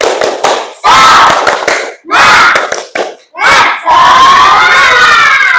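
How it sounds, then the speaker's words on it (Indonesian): A class of children doing a rhythmic spirit clap, bursts of loud group clapping and shouting from the crowd in a classroom, coming in several close rapid runs with short gaps between them. "Tepuk semangat."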